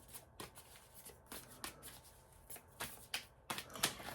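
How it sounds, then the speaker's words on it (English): An oracle card deck is shuffled up close, with a steady run of short papery riffles and taps that build to louder bursts near the end, with no talking. "I'm just going to shuffle here."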